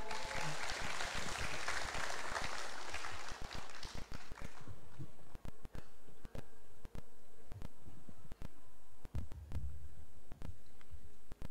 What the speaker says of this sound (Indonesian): Boleh minta tepuk yang meriah?